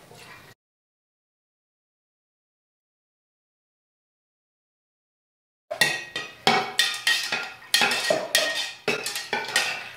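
A utensil stirs melted candle wax with fragrance in a pot, giving repeated clinking scrapes against the metal in an uneven rhythm, close and fairly loud, after a long stretch of silence.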